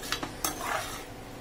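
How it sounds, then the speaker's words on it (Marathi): Amaranth (ambadi) leaves sautéing in oil, a steady soft sizzle with a few light scrapes of a spatula stirring through the greens early on, close and fairly quiet. "आता मी हिला 2 मिनिटं तेलात परतून घेणार आहे"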